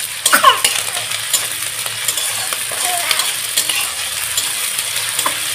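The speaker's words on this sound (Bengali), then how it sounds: "1 চামচ আদা রসুনের পেস্ট দিয়ে দিলাম, দিয়ে আমি মশলাটাকে ভালোভাবে কষিয়ে নেব" Spices and a spoonful of ginger-garlic paste fry in oil with dried red chillies, stirred repeatedly; a close sizzle with frequent scraping strokes, loudest at the start.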